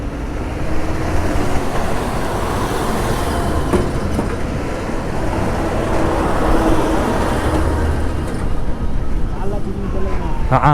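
A convoy of army vehicles rolls past on a mountain road near Diskit, a loud continuous engine rumble and tyre roar close by, with a voice talking over the traffic.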